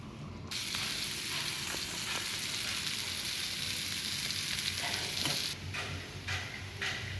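Spices with potatoes and eggs fry and sizzle steadily in a pan, cooked down the way meat masala is, a continuous close hiss with faint stirring ticks throughout and no voices.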